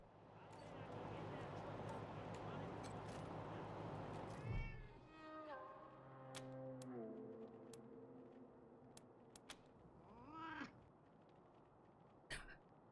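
A cat meows repeatedly in the game Wasteland 3, a run of rising, drawn-out cries sounding fairly close and clear over steady background game noise, with a few sharp clicks and one short cough-like sound.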